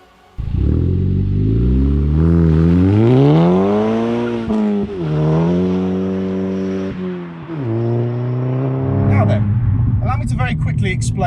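A heavily modified Mk5 Golf GTI with 267 brake horsepower accelerates hard through the gears, its engine note rising loudly in repeated sweeps with gear-change dips, close and dominant, ending with brief tire or road noise.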